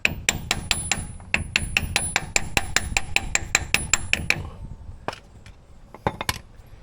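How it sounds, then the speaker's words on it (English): Sharp metallic hammer blows ring out in a quick, regular series on a Yugo car part, then slow to a few scattered strikes near the end; close and fairly loud. "Just hammer it all the way, and that's it."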